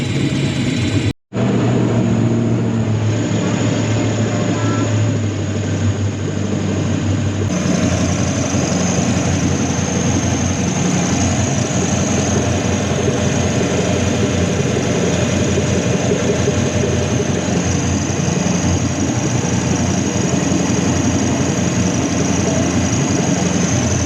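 A Toyota 1UZ V8 idles steadily inside a jetboat, its exhaust discharged into the water, giving a continuous muffled low rumble that runs close and alone throughout without a break.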